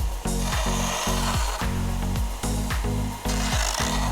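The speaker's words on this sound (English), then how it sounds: "Now I'm going to take it over to the belt sander," A belt sander smooths the cut edges of a piece for a Christmas sled decoration, giving a loud, close, continuous whir whose pitch dips in a regular rhythm as the piece is pressed against the belt.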